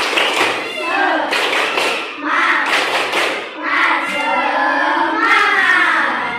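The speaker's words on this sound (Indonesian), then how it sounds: "Ayo, tepuk semangat" A school class does a spirited rhythmic clap together, with bursts of hand claps and chanting children's voices in repeated loud phrases.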